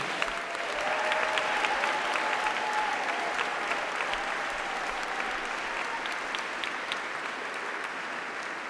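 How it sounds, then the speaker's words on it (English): Sustained applause from a large graduation ceremony audience, a dense, steady roar of clapping that fills the hall throughout at an even level. "shall we have a round of applause for all those special people who are here celebrating with you today?"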